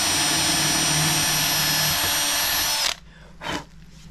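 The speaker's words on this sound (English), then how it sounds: "Now, I'll take these nice little drill bit. through the base." A power drill whines loudly and steadily as it bores through a shelf base, then stops abruptly, followed by one short burst of drilling.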